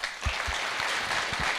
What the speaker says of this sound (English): I think we should give this person a round of applause.